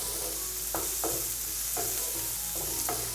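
Noodle masala sautés in a pan over a high flame, where a constant sizzle is punctuated by about five rhythmic spatula strokes scraping through the mix.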